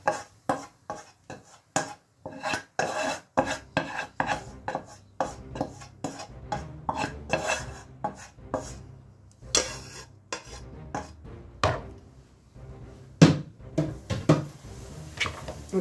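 A spoon stirs fried onions and peppers into couscous in a bowl, making close, irregular clinks, scrapes and soft taps with no voices.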